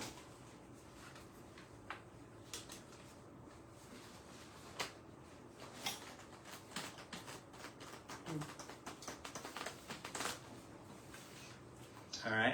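Cards being shuffled by hand, soft irregular riffling and tapping crackles, quiet and close, continuing for several seconds with a faint room background.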